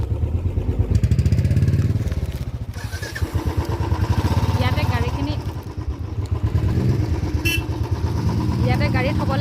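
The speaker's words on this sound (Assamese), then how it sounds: "বাইক আমি থ'ব লাগিব" A motorcycle engine idling close by in a parking area near Garoghuli Waterfall in Guwahati, a steady rapid chugging throb that dips briefly and then returns, with no talk over it.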